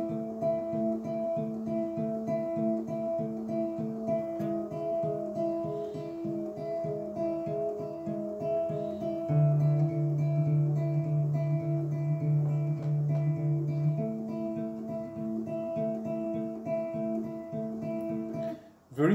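Guitar plays the introduction to a song, a steady, repetitive picked pattern of ringing notes over a sustained low drone, continuous and alone at moderate level.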